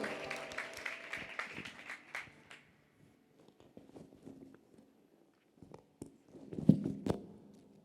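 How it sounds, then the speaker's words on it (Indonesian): A church youth congregation breaks into applause, a burst of mixed clapping and cheering that fades to scattered claps and shuffling, then a few louder claps and thumps near the end. "Beri tepuk tangan buat Tuhan sama-sama."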